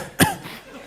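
A single sharp, close cough from a speaker choking on a drink, followed by a faint breathy trail.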